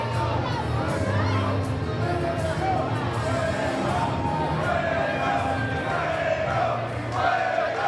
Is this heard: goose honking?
no